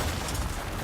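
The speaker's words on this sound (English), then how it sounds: "Fireworks? For me?" Fireworks go off in the video game Crimson Desert, a brief, dense burst of booming, crackling rumble that stays steady and fairly close throughout.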